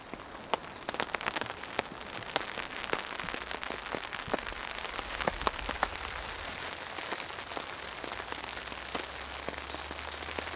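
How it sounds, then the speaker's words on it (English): Rain falls in a forest during a camping trip, a steady hiss of drops with many close, irregular taps and patters on a surface, likely a tent or tarp, with no voices. "And just like that, it has started to rain."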